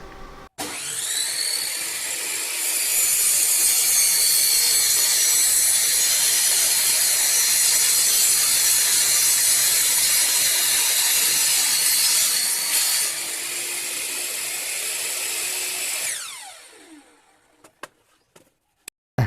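A PUMA PM-1018TBS 10-inch 1800W table saw whines at high pitch as it makes a 45-degree bevel cut steadily through wood for several seconds, then the blade spins down, followed by a few clicks.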